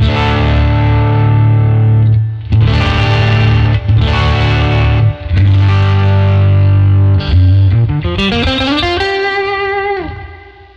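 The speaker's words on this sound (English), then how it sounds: "It just pushes the sound, it distorts it a little bit." An electric guitar played through an overdrive pedal for high-energy rock gives a dirty, distorted rhythm tone. Loud, sustained chords ring out alone, then slide upward near the end and fade.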